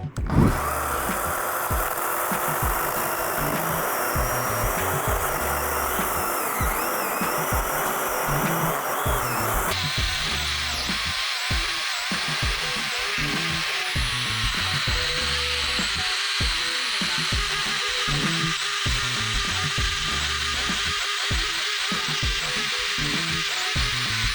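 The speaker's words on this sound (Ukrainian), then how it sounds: "А ось так наша пилка працює." A Procraft cordless chainsaw runs steadily, loud and close, with a continuous motor whine whose tone shifts partway through.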